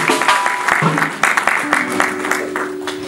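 A church congregation claps and applauds during an evangelical worship service, producing dense continuous clapping throughout, with sung or spoken voices and sustained musical tones underneath.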